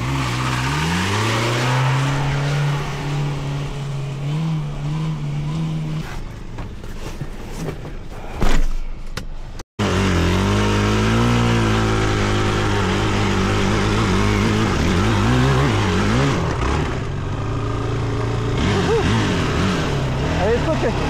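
An off-road vehicle engine revs hard at full throttle in rough terrain, a loud sustained drone rising in pitch, briefly cutting out mid-way before roaring back with wavering revs as voices talk over it.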